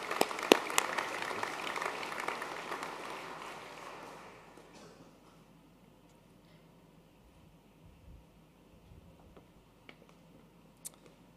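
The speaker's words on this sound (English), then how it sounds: "Can we please give one more round of applause to our Athlete and Swimmer of the Year?" Audience applause at an annual college sports awards night, a moderately distant crowd clapping steadily for the first four seconds before fading out into a near-silent hall with a few scattered claps and small clicks.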